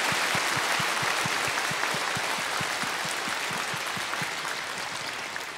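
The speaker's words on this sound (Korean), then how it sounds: "우리 큰 박수로 목사님께 새 인사 드리겠습니다" Sustained applause from a large church congregation at a New Year's prayer service, a dense steady wash of clapping that fades slightly toward the end.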